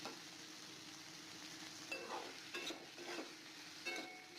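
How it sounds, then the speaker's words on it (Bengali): Cauliflower florets being stirred and fried in a pan, a faint steady sizzle with a few soft scrapes of a spatula, low in level throughout. "তো তারপর ফুলকপিটা দিয়ে একটু ভালো করে নাড়াচাড়া করে নিচ্ছি।"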